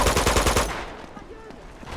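Machine gun fire in Uncharted 2, a loud rapid burst of about a dozen shots over the first second, then fading into quieter background noise.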